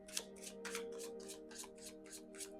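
Tarot cards being picked and shuffled by hand, a quick run of about nine soft, papery riffling slaps at an even rhythm, close and quiet over a faint steady hum.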